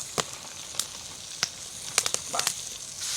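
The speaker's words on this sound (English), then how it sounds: "that is how you cook deer steaks with no power, no propane. Just a good old cast iron pan" Deer backstrap steaks frying in a cast iron pan over a campfire at an off-grid hunting cabin give a steady, close sizzle with scattered sharp pops and crackles, heard alone without talk.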